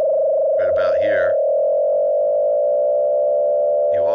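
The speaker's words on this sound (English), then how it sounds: "you also hear these other tones arise in the sound" A steady FM synthesizer tone built in Pure Data holds throughout, with brief flurries of extra sideband tones rising over it near the start and again at the end.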